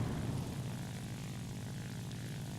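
Steady, droning propeller aircraft engine in flight in the War Thunder video game, a loud continuous roar with heavy low rumble that holds level throughout, no voices.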